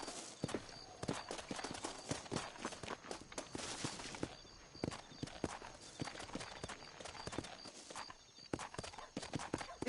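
Horse hooves clip-clopping in the 2010 video game Red Dead Redemption, a rapid run of crisp, close hoof strikes at a brisk steady pace, fairly quiet, with no talking over it.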